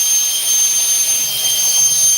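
A dual-motor carbon RC fan upgrade, a Hyperflow Limitless setup, runs at full power with a loud, steady jet-like roar and a high whine, with no talk over it.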